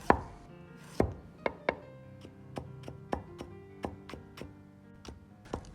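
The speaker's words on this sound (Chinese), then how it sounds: "先切成薄片" A knife slices a peeled carrot into thin slices on a board, giving a run of sharp, evenly spaced chops, close and clear, with nothing else heard.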